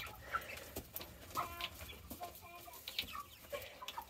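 Chickens clucking and murmuring in short, scattered bursts, fairly close, with soft farmyard background noise and no talking.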